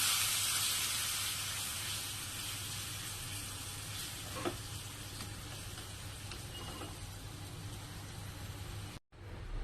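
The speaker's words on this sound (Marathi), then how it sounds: "छान उकळू द्यायचं." Lemon, sugar and salt water for the tempering of ragi dhokla sizzles steadily in a pan, a continuous close hiss at an even level, with no voices.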